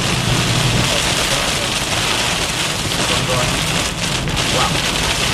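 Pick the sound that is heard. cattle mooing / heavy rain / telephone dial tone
heavy rain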